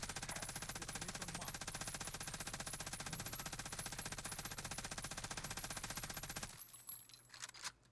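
An MG34 machine gun in the video game Warzone fires one continuous rapid burst lasting several seconds, steady and dense, then cuts off into a few faint clicks and rattles.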